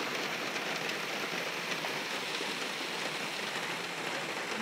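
Summer rain patters steadily on car windows, a dense, even hiss of droplets with no pauses, close and moderately loud throughout.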